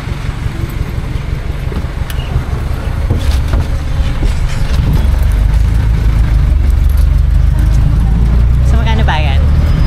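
A yellow UP Ikot jeepney on the UP Diliman campus rumbles along with a low engine drone that swells and steadies partway through, with people talking over it.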